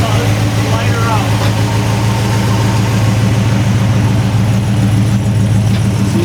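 An old 1964 Ford Fairlane idles with a loud, steady, low rumble and an even pulsing beat that continues the whole time, and a voice speaks briefly over it.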